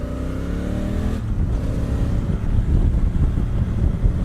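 A 2017 Honda Africa Twin motorcycle revs and roars past with wind buffeting the microphone, the exhaust note rising, popping and crackling as it accelerates.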